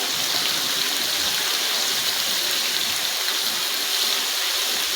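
Garlic ginger paste sautéing in about a cup of hot oil in a pan, a steady close-up hiss and sizzle holding at an even level throughout with no breaks.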